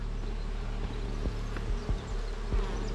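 Honey bees humming steadily around an opened nucleus hive during an inspection, a close, continuous buzz with faint knocks from the hive now and then, and no voices.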